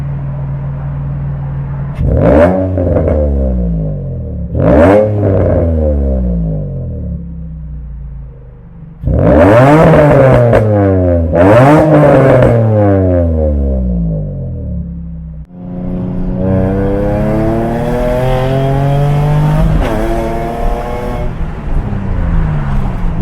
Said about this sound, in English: do a 3000 RPM rev, and then I'm gonna do a higher 5000 RPM rev